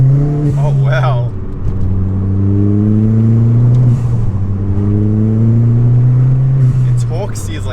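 A Ford Fiesta ST turbo engine pulls hard while driving, its drone climbing in pitch through repeated rising sweeps as gears change, heard up close from inside the car with a person talking over it.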